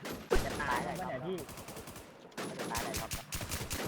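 Rapid gunfire in an online shooter game: a loud opening shot, then dense volleys of automatic fire, broken by a short lull before another sustained burst, with a voice talking over the shooting.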